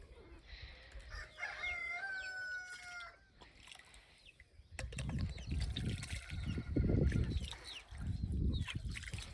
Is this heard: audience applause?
no